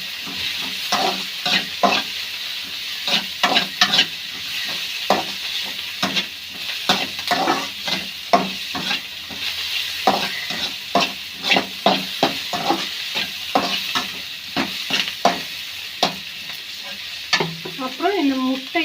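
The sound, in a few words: sautéing tomatoes in a frying pan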